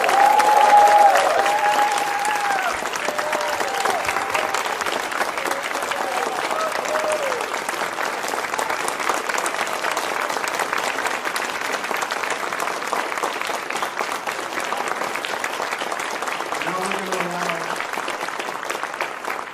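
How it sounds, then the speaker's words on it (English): A graduation audience gives a long, sustained round of applause for the 2022 music graduating class, dense clapping that holds steady throughout, with faint voices and a brief musical tone near the start. "I'd like to give a final round of applause to the graduating class of 2022."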